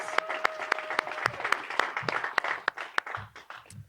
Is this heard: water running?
no